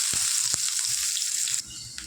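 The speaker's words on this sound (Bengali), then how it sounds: "এখন দেবো আমি পেঁয়াজ কুচি আর টমেটোর কুচি" Chopped onion and tomato fry in hot oil with cumin, a loud steady sizzle with a few soft knocks of a spatula that drops away sharply near the end.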